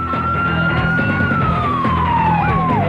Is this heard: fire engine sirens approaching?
yes